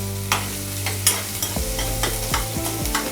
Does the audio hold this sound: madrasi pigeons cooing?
no